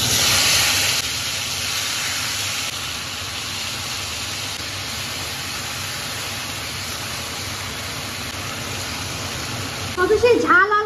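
Grated coconut hits hot cooking oil and sets off a loud, continuous broadband sizzle that hisses steadily throughout, with a brief clatter and voice near the very end.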